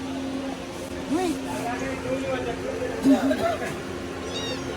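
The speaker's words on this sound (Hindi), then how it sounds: "जाते जाते मैंने बिल्ली से भी खेल लिया" A cat at a Karachi shop meows several times in short, rising-and-falling cries, close by. Murmuring voices and steady low street noise carry on beneath the calls.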